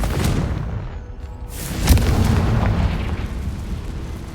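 A Confringo fire-blast spell in Hogwarts Legacy bursts with a booming explosion near the two-second mark, set against a continuous roaring rumble of game sound that persists throughout.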